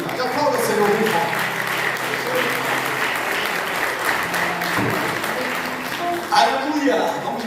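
A church congregation applauds during a family worship service, with steady, full clapping from a crowd that keeps going throughout and swells near the end, with voices calling out over it.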